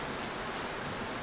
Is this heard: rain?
yes